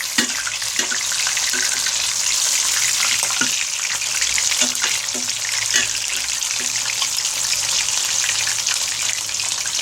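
Oyster fritters frying in a pan over low-medium heat, a continuous bright sizzle with occasional pops and soft scraping taps, close and steady throughout.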